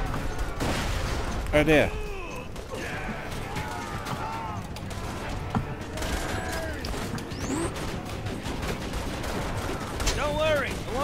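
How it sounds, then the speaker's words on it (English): Explosive gunfire from a thrown, exploding gun in the video game Borderlands 2, heard as repeated sharp bursts mixed into a busy game soundscape while a person talks over it. "I like this throwy explodey gun."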